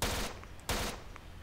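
Rifle gunfire in S.T.A.L.K.E.R. Shadow of Chernobyl, two loud close shots roughly two-thirds of a second apart, each with a short decaying tail.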